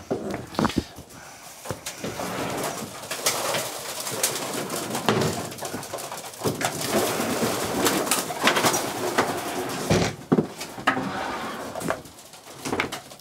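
Pigeons cooing in a loft with more than forty late-bred birds, soft overlapping coos and low murmurs throughout, scattered wing flutters and shuffling close by.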